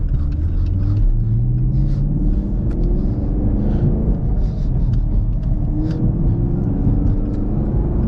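Cabin view of a 2021 Chevrolet Camaro SS 1LE on the road, its V8 giving a loud, continuous low rumble with gently rising and falling engine tone as it drives, heard up close with no talking.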